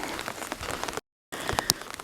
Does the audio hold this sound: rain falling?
yes